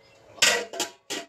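A cooking pot handled while setting rice on to cook, three sharp metallic clanks and scrapes in quick succession, close and loud with no talking.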